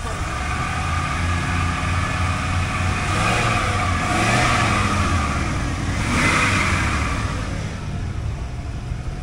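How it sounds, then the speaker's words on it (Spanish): Pickup truck engine at a used truck market revving: a mid-pitched rumble that swells twice in throttle blips over a steady idle, fairly close. "la hubieras acelerado tantito, bro, a que le escuchen el motor"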